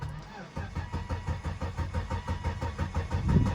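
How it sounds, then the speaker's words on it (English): A 2001 Volvo S80 engine cranks repeatedly without catching, a steady rhythmic churning of the starter close by after a brief pause at the start. "Wow, it's cranking, but it won't start."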